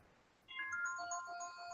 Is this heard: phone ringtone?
yes